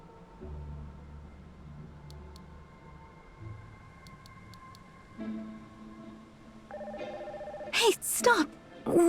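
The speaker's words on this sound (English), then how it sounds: "So I decided to give your brother a ring." Phone keypad tones and a ringing call placed from a handset in a Pokémon Sun and Moon video game scene, short beeps followed by steady ring tones and a brighter burst near the end, over quiet game music.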